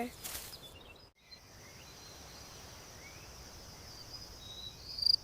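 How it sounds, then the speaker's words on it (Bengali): A cricket chirping as a steady, high-pitched trill that rings on unbroken for several seconds, faint and alone, after a short rustle at the start. "এটা হলো ঝিঁঝি পোকা। ঝিঁঝি পোকাকে ইংলিশে বলে ক্রিকেট।"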